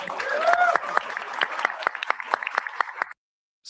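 Brief applause from a small group, sharp individual claps pattering over a soft background wash, then thinning out before cutting to silence.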